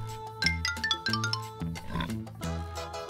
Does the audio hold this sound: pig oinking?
yes